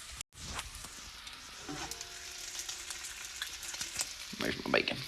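Bacon and potatoes fry in a pan with a constant crackling sizzle, a brief gap near the start, then busier spattering and occasional stirring toward the end; no talking.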